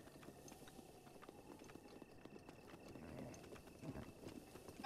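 Galloping horse hooves in the video game Breath of the Wild, a quiet, rapid, rhythmic clatter of steps that grows slightly louder toward the end.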